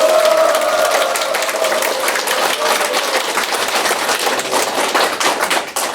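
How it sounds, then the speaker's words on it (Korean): Audience clapping at a small celebration gathering, a dense, steady burst of applause from many hands lasting several seconds, loud and continuous before tapering at the end. "큰 박수."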